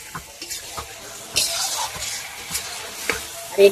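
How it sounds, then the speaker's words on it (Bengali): Marinated meat and spices for kacchi biryani are stir-fried in oil until the oil separates, giving a low sizzle with repeated scraping stirs and spatula clinks at an uneven rhythm, close by and with no voices. "সমস্ত মশলার সাথে মাংসটাকে কষে দেবো যতক্ষণ না তেল ছাড়বে"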